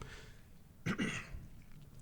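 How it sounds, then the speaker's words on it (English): A single short, quiet cough from a podcast guest during a live recording, rising briefly out of low background room noise. "I need to cough a little bit"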